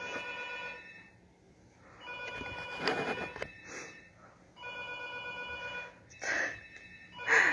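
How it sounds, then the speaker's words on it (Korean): A home telephone rings in repeated bursts of electronic tones, with short pauses between them. It sounds moderately faint, as if from another room, and no one talks over it. "이걸 시작하자마자 집에 전화가 왔는데 안 받는 게 나을 것 같아요"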